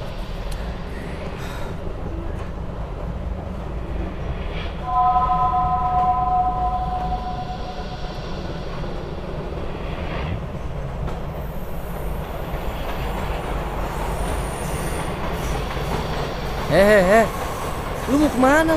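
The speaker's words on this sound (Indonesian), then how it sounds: "Berarti kereta ini mau ke Jakarta dong, Kay?" A train bound for Jakarta rumbles steadily along the rails with a continuous low roar, some faint wheel squeal and brief tonal sounds, while people talk in the background.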